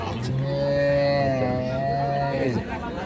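A cow at a busy rural cattle market in Dinajpur gives one long, loud, close moo that sustains for about two and a half seconds, steady and resonant before dropping off, with market crowd chatter faintly underneath.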